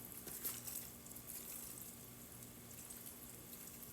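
Vegetable broth is poured over bread for vegan stuffing, making a soft, continuous trickling hiss that stays faint and steady for a few seconds with no talk.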